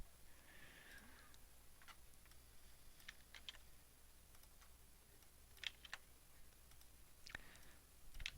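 Typing on a computer keyboard during data cleanup work, heard as faint, irregular clicks and short bursts of keystrokes alone against a quiet background.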